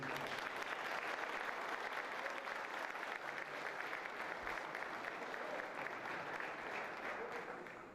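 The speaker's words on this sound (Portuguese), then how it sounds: "Vamos receber uma forte salva de palmas, servo do Senhor, pastor Anderson." A church congregation gives its pastor a strong round of applause, dense continuous clapping from many hands filling the hall at moderate loudness for the whole stretch before tapering at the very end.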